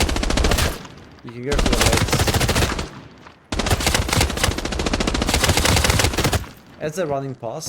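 An MA55 rifle firing in the video game Arena Breakout Infinite, long sustained automatic bursts, loud and close, split by short pauses while a person talks between volleys.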